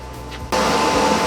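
A spray can hisses out a steady, loud coat of paint onto a phaser rifle prop, the continuous broadband spray starting abruptly after a quieter moment and holding evenly to the end.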